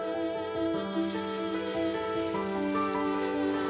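Steady autumn rain falls as a dense, even hiss, blended with sustained musical tones that run under it throughout, with no talking.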